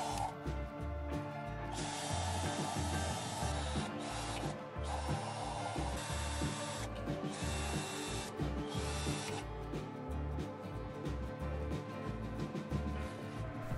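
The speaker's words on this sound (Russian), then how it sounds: "А затем делаю отверстие ступенчатым сверлом 6 мм" A 6 mm step drill bit bores through a tin can in repeated bursts, each a harsh, close metallic grinding whine separated by short pauses across the whole stretch, with no talk.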